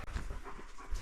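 A dog pants in quick, close breaths for a moment, loud and alone, near a 1979 Ford F-250 pickup.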